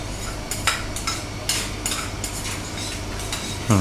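Spatula strokes flip and stir catfish curry with sator beans in a hot pan, giving several sharp scrapes and clinks over a soft frying sizzle, close and brisk, with a louder scrape at the end.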